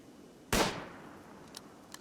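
A single sharp gunshot from RimWorld, a pot shot fired at range, cracks out loudly with a decaying tail, followed by a couple of faint clicks.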